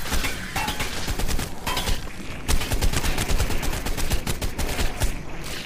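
Gunfire in the video game ARK: Survival Evolved inside a swamp cave: loud, sustained rapid-fire bursts of shots sound close and dense throughout, with brief gaps between volleys.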